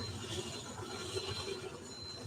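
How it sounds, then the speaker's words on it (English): A train rumbles past with a continuous steady roar, wheels squealing faintly over the rolling clatter, close and loud with no voices. "Sorry about the train."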